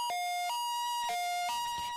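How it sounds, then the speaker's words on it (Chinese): Ambulance siren in Xizhi, an urgent two-tone alternating hi-lo blare repeating twice in quick succession, steady and clear with no voices. "汐止传来一阵急促的救护车鸣笛声"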